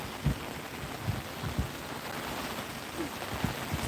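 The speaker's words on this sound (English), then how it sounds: "So it's starting to rain real fast." Rain comes down fast, a steady hiss of drops spread across the whole clip, with a few soft thumps standing out from the constant patter.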